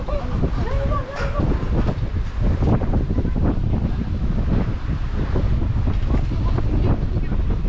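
Strong gusts of wind roar and buffet the microphone on a swaying suspension footbridge outdoors, with brief voices heard under the noise.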